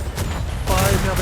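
Ship cannons firing in a Royal Navy roleplay naval game, a short rolling volley of booming shots, loud and close, with a voice speaking over the blasts.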